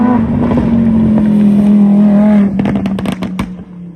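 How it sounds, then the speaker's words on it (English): A Lamborghini with a Soul Performance exhaust holds a loud, sustained rev, then the engine note drops away into popping and crackling as the revs fall. "Soul performance exhaust on my Lamborghini."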